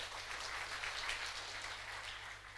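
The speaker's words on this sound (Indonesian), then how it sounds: "kita berikan aplaus pada beliau" Audience applause at a GP Ansor gathering, a steady wash of clapping from a crowd, fairly faint and distant, running evenly throughout with no voices over it.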